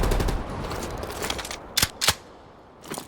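Short machine gun bursts ring out in a Vietnam-era Call of Duty Black Ops Cold War battle, a rattling stream that fades, then two sharp loud bursts close together and a quieter one at the end.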